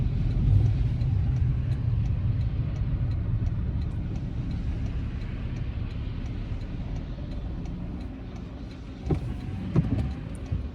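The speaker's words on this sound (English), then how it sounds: "So after this car I can go." A car drives on a winter road in Guelph during a road test, heard from inside as a steady low rumble of engine and tyres for about ten seconds, with a couple of brief knocks near the end.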